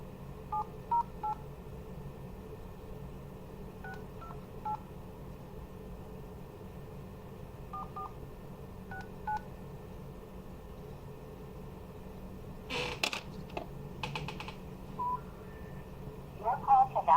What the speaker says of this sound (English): Gonna call the next person here